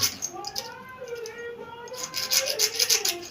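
A blade is rubbed against a hard ground surface to sharpen it, giving a close, scraping rasp in strokes that swell and fade, with a louder stretch near the end.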